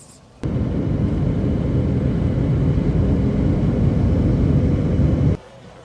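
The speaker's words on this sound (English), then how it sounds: "so that was the plane ride from hell" Airliner cabin noise during flight: a dense, steady roar that cuts in abruptly, holds level for about five seconds, then stops, loud and close with no talking.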